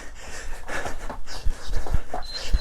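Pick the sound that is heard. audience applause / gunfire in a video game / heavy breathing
heavy breathing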